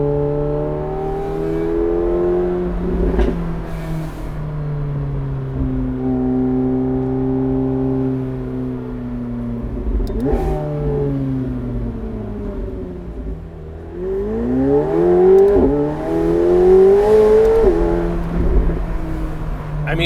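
A McLaren 750S Spider supercar engine revs and accelerates, its loud, close exhaust note rising in pitch through several gear pulls and dropping between them, building to a strong surge near the end.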